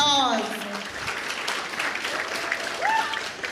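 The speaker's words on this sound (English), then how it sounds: "Give yourself a round of applause." A graduation ceremony audience, EHS Mesopotamia 2025, breaks into steady, dense applause that fills the hall, with a voice speaking over it at the start and near the end.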